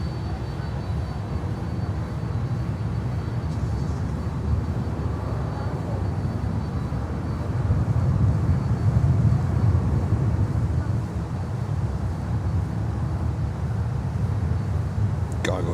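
A Cargojet Boeing 767-300 sits on the runway at Miami, its jet engines producing a steady, broad rumble that swells slightly midway and stays fairly distant throughout.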